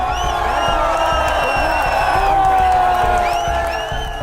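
A large crowd of protesters packs Jantar Mantar in Delhi, a loud, close wall of overlapping voices with shouts and calls rising out of the din.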